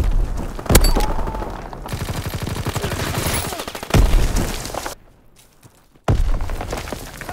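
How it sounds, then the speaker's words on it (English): Sticky bomb explosions and gunfire in a Call of Duty WWII multiplayer domination match: loud booming blasts near the start and middle, with rapid gunfire rattling between them, a short quiet gap, then more firing. "Throwing sticky bomb!"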